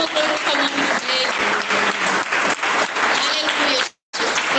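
A church congregation applauds in steady, dense clapping that fills the room, with a very brief break near the end before the clapping resumes.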